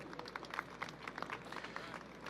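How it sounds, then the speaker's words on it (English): Faint, distant audience applause at a Pakistani flag-raising ceremony, a soft, even patter of clapping that continues steadily throughout. "Please give him a round of applause"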